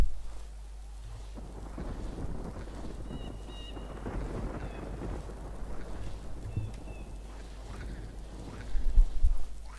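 Steady rain with rolling thunder rumbles in the Tomb Raider Chronicles video game, Old Mill level, a continuous low wash with a louder crack of thunder near the end.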